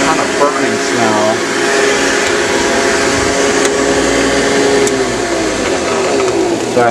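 A vintage Hoover vacuum cleaner with a burning smell runs in a loud, steady motor roar and whine that continues without a break, close up, with a voice briefly audible over it.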